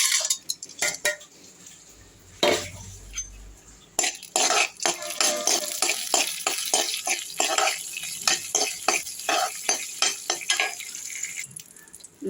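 Cashews tossed into hot ghee in a pan, with a stretch of steady frying hiss broken by scattered metallic clinks and stirring scrapes from a spoon against the vessel, close and moderately loud.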